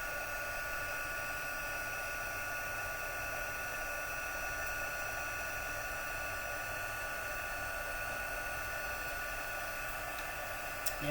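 An embossing heat tool blows a steady, even whir of hot air, running continuously at moderate volume without pause for the whole stretch.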